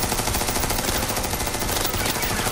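Dense, loud automatic gunfire from an anime shooting battle in Gun Gale Online, a continuous rattling burst of rapid shots filling the whole stretch with no voices.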